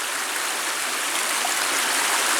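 Steady broadband rush of creek water flowing along a creek bed near the Delta River in Alaska, continuous and fairly loud, with no voices.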